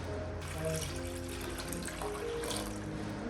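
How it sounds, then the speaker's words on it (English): Water runs into a large basin in a kitchen, a continuous faint trickling and splashing stream that holds steady throughout with no one speaking. "prepare a large basin and fill it with water."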